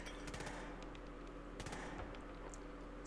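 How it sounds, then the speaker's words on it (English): Scattered gunshots and bullet cracks in a shooting video game, coming in short sharp bursts around the start and again in the middle over a steady background hum, fairly faint and distant. "We can see the bullets flying nearby."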